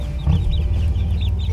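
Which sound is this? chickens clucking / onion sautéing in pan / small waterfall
chickens clucking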